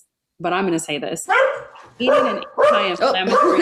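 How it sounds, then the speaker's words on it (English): A dog barks repeatedly nearby in short bursts, tangled with a person speaking over it during an indoor virtual conversation. "Sorry about the barking."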